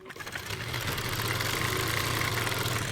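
A sewing machine stitching a seam on palazzo fabric, starting quietly and quickly settling into a steady, rapid mechanical whirring hum with fine rhythmic clatter, close and continuous, no voices.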